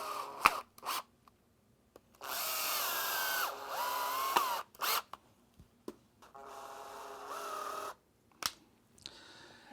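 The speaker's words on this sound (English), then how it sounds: "attach it by driving screws through the wallboard and into the wood" A power drill drives screws through wallboard into a backing piece of quarter-inch plywood in two loud whirring bursts, each ending with the pitch straining as the screw seats, separated by quieter clicks, handling noises and short pauses.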